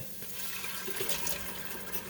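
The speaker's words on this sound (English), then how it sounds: "Now I'm adding 3 cans of cut green beans with the liquid." Canned cut green beans and their liquid pour into a cooking pot over softened onions and garlic, giving a steady close splashing, gushing flow.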